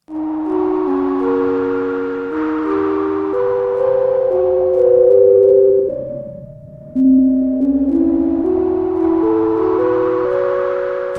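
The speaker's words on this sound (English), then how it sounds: "kind of a bell sound" A bell-like synth patch on the pico_synth_sandbox, playing a slow melodic line of sustained chiming tones with a noisy filtered wash that fades out briefly in the middle before the phrase resumes.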